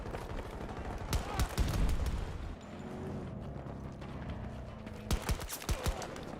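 Pistol shots in Battlefield 2042 crack out as sharp, separate reports, a cluster early and several more near the end, amid distant battle noise and a low rumble, moderately loud.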